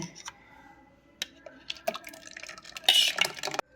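Vanilla ice cream mixture being poured and scraped into an airtight container, with light clinks of a spoon against the container and a brief rush of liquid near the end.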